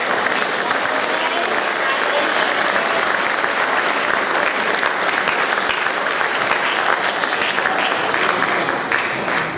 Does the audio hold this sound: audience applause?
yes